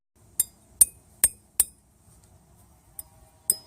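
Small metal brake abutment clips from a Ford rear brake job clink sharply as they are handled, six crisp bright ticks, four in quick succession, then two more after a short pause, close and alone.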